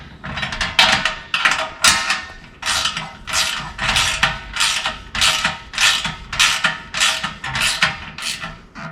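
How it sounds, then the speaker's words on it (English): A wrench tightens a nylon-insert lock nut on a bolt during a Jeep 4xe Slipstream install, giving a loud, close, regular ratcheting rasp of about a dozen even strokes with no talk. "just doing it by wrench, turn, turn, turn as many times as you need to till it's nice and snug"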